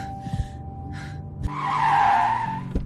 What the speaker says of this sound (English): The car pulled over.